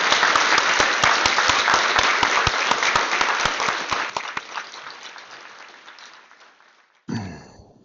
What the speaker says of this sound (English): I'll ask you to join me in applause of gratitude for him.